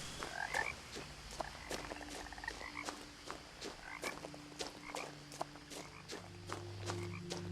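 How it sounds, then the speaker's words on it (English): Toads croak in the woods of What Remains of Edith Finch, low and faint under quiet game ambience. Soft ticking tones and light footsteps are scattered throughout. "Oh, there's some toads out here."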